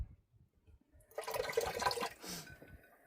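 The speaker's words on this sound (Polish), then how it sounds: "Tak się leje woda w kamperze." A tap in a camper van runs briefly: a moment of quiet low rumble, then a short splashing gush of water for about a second that tapers off.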